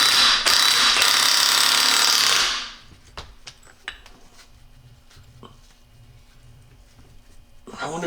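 An air impact wrench hammers a nut off the differential of a 1995 Chevy Suburban swapped with a 453T two-stroke Detroit Diesel, a loud rattling burst for about two and a half seconds, then quiet clinks of tools and parts.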